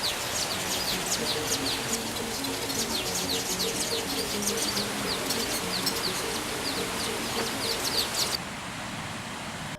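Songbirds in the Sezibwa rainforest chirp and call in dense, overlapping bursts over a steady background hum of insects or forest ambience, with the bird activity dropping off abruptly near the end.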